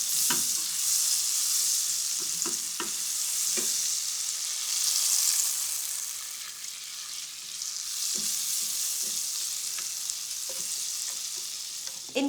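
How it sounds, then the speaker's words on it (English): About 50 grams of butter melting in a warm pan, giving a continuous soft hiss and sizzle, close and steady, with a few light stirring clicks. "I've got 50 grams of butter, just going straight into a warmish pan."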